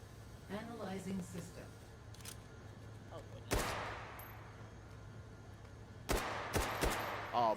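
Gunfire from a video game match: sharp shots sound around the middle and a quick cluster near the end, set against a low steady game backdrop with faint voice-like tones early on.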